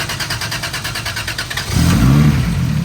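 A Nissan S13 engine cranks with a rhythmic starter whir, then catches and fires into a louder, steady idle, close and loud with no talking.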